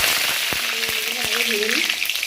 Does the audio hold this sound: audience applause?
no